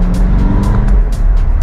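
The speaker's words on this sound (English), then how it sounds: "So I'm gonna put it in MO because the exhaust sounds so good." A 2022 C8 Corvette accelerates with a loud, roaring exhaust heard from inside the car, a continuous deep rumble with rhythmic pulses.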